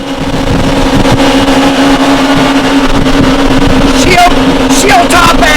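A 2008 Yamaha SX230 High Output jet boat running at speed, giving a loud, steady engine drone with rushing wind and water noise, and brief voices near the end.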